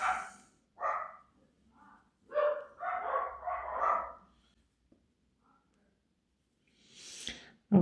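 Dogs bark in several bursts, the yaps grouped unevenly over the first few seconds and then again near the end. They sound indoors and fairly close, with a quiet gap between the bursts.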